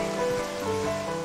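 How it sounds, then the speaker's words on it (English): Steady rain in The Legend of Zelda: Twilight Princess HD, a continuous hiss of falling water mixed with soft tonal game background sounds, with no talk over it. "I just hate the rain."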